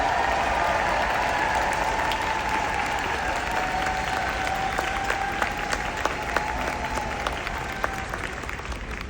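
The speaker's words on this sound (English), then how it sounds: "Would you please give my unit a round of applause?" Sustained audience applause fills a seminar hall, dense and steady for the full length, with a few sharper individual claps standing out near the end.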